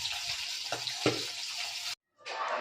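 Bhetki fish head frying in oil gives a steady close sizzle with a few knocks from stirring, then a brief silence before the crackle starts again.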